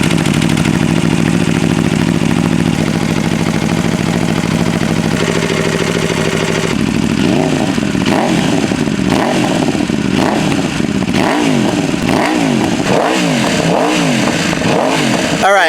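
An old superbike sport motorcycle engine, needing a valve adjustment, idles roughly up close, then is revved repeatedly in sharp bursts that rise and fall.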